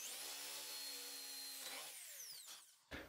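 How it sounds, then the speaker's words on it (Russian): A power drill whines at high speed, its pitch dropping as it bites into wood to drill a dowel hole, then spins down and stops with a brief thump. "Берем дрель и сверлим, где будет у нас стоять шкант."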